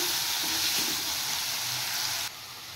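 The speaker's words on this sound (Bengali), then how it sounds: "আলু ভাজা বসিয়ে দিয়েছি" Potatoes sizzle steadily in hot oil, a close, continuous crackling hiss that suddenly drops quieter near the end.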